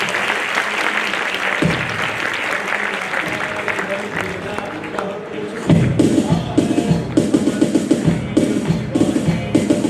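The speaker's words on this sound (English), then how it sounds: "A huge round of applause for them." Audience at a school investiture ceremony applauding, a dense wash of clapping that swells and turns sharper and louder midway, with a voice briefly heard at the start.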